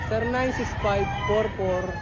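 Roosters at a gamefarm in Liliw, Laguna crow in overlapping calls, several birds close by, with a steady hum of other fowl behind.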